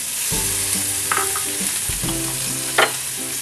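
Chopped onions hit hot oil in a pan for an egg curry with poppy seed and coconut paste, giving a steady close sizzle with stirring scrapes and a brief louder crackle near the end, no voices.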